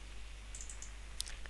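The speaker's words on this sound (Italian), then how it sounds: "facendo doppio clic, possiamo aprire la classe quadrato." A computer mouse gives a soft double-click to open a Java class file, two or three faint, close clicks over a quiet room hum.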